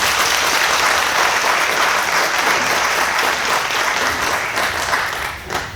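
Sustained, loud audience applause fills the hall at the 2023 Apple Awards ceremony, a dense steady wash of clapping that begins to thin and fade in the final second.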